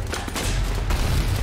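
Ship cannons firing in the naval video game Sail Forth, a dense, continuous barrage of booming blasts that runs through the whole short stretch, loud and close, with no talk over it.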